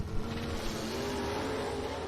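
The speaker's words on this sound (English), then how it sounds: "what a drag race that was, folks" Drag racing cars launching down the strip at Mt. Olive Dragway in a Southeast Gassers event, including a Chevelle and the Gold Dust Barracuda, a loud continuous engine roar with rising harmonic whine, no voices.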